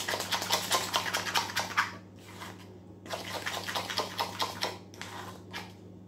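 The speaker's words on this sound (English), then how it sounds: "So give it a good mix." Coffee and walnut cake batter being mixed in a bowl, giving a run of quick scraping and tapping strokes in bursts, with a short pause partway through, close and moderately loud with no talking.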